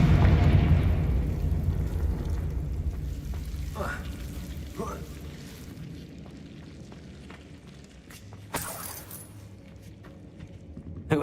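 Confringo blasting spell in Hogwarts Legacy, a fiery explosion that rumbles broadly at first and then fades into crackling debris and a few sharp bursts, with faint background game ambience.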